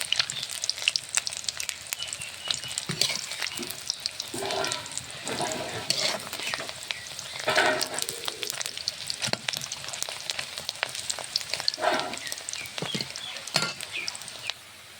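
Continuous oil sizzle with scattered crackles and pops from small puti fish frying in a pan, steady throughout with occasional louder spits.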